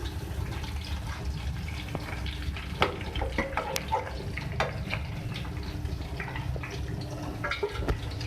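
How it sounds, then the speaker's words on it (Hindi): Fish coated in masala frying in a pan at home gives a continuous close sizzle, with scattered sharp pops and crackles spread through the hiss. "हमारी जो फिश है वो फ्राई हो रही है"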